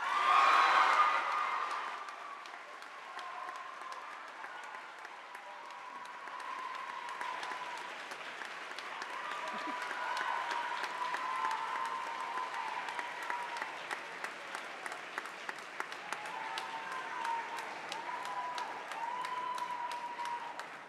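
Audience applause fills a school honors day award ceremony, a broad steady clapping from a crowd that swells after a brief louder start and carries on for about twenty seconds, with a few scattered cheers on top.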